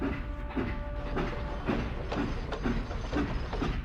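A departing harbor train rolls along with a steady rhythmic clickety-clack of wheels over rail joints and mechanical rattling, moderately close and heard alone.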